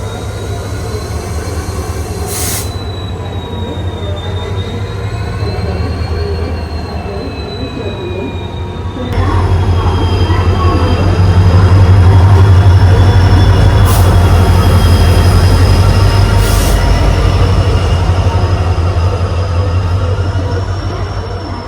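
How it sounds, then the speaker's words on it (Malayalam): The Purna Express passenger train to Madgaon stands at a station platform, giving a loud, continuous low rumble of engine and carriages that swells partway through, with occasional sharp high squeals and no talking. "മഡ്ഗാവ് പോകാനുള്ള നമ്മുടെ പൂർണ്ണ എക്സ്പ്രസ് ഇവിടെ 3 വന്ന് കയറ്റിയിരിക്കുകയാണ്."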